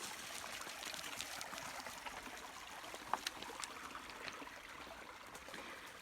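Creek water trickles and burbles over rocks in a faint, continuous wash with small splashy ticks scattered throughout.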